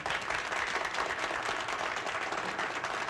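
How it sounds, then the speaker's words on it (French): Dense, steady applause fills a hall at a 1979 Soirée Canadienne in St Joseph de Ham Sud, many hands clapping together without pause and no voices over it. "on les applaudit"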